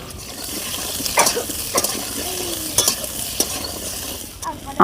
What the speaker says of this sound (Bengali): এবারে আমি আমটাকে ভালো করে ভেজে নেব